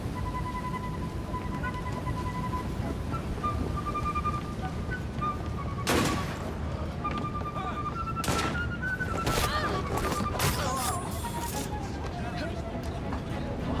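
Sniper gunfire in Assassin's Creed Syndicate, several sharp shots cracking out irregularly over a continuous noisy game backdrop with a sustained tonal hum.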